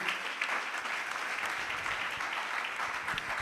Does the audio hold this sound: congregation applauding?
yes